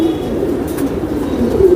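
A racer homer pigeon cooing on a Delhi rooftop, a low, throaty rolling coo repeating close by at a steady level, with faint outdoor background beneath.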